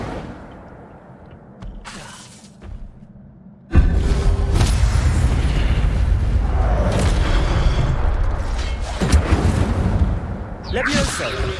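Incendio fire spell blasts in Hogwarts Legacy combat: after a quieter start a sudden loud burst erupts into a sustained roaring, crackling rush with further bursts, other game sounds mixed in.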